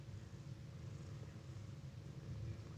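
A small kitten purrs softly and steadily close by, a low continuous rumbling purr with no voices over it.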